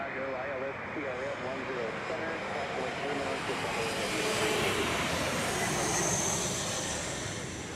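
A SkyWest CRJ 700 jet passes at Chicago O'Hare airport in stormy weather, a loud steady engine roar swelling in the middle and easing off, with someone talking over it early on.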